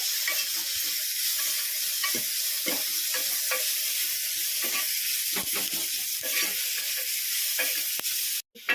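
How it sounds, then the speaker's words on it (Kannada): Onions fry with a pinch of salt in a pan, giving a steady, close sizzle with repeated stirring scrapes throughout, and no voices. "ಸ್ವಲ್ಪ ಉಪ್ಪು ಹಾಕಿ. ಆಗ ಈರುಳ್ಳಿ ಬೇಗ ಫ್ರೈ ಆಗುತ್ತೆ, ಕೆಂಪನೆ ಬಣ್ಣಕ್ಕೆ ತಿರುಗುತ್ತೆ."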